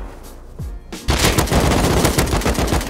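AK rifle gunfire in an online survival shooter game, a loud close burst of rapid automatic shots that starts after a brief lull and keeps rattling, with no talking.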